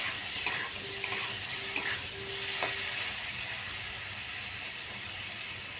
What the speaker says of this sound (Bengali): সামান্য লবণ দিয়ে আলুটাকে এখন নাড়াচাড়া করে লাল লাল করে ভাজবো।